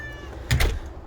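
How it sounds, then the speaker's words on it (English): A cat meows once in a short, fairly close call at a home's enclosed catio, briefly rising above a quiet indoor background. "There's a cat."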